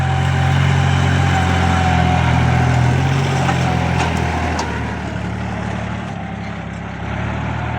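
A farm tractor engine runs loud and steady nearby, a low, throbbing mechanical hum that continues evenly throughout with slight shifts in pitch.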